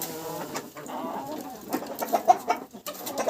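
Farmyard chickens cluck and murmur close by in a coop at evening, short soft calls scattered irregularly with a few louder notes.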